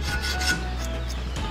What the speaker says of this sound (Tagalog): Try natin itong kikil. Buti pa itong kikil.